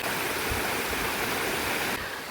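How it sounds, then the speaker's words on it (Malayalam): Water tumbling between rocks at a small waterfall near Poomala Dam, a steady, loud rushing roar that fills the whole short stretch with no voices over it. "നമ്മുടെ ഈ മനോഹരമായ ഒരു വെള്ളച്ചാട്ടമാണ്"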